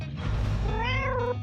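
A cartoon cat from the Avatar World video game lets out a single drawn-out meow, loud and close, rising then falling in pitch over about a second with nothing else around it.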